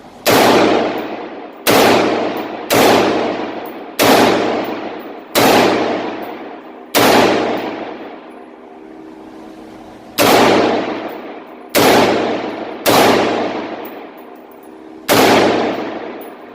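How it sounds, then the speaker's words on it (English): A newly built AR-15 rifle fires about nine sharp, loud shots at a slow, uneven pace, each crack ringing out with a long decaying echo, and no talking between them. "the first shots of the new AR"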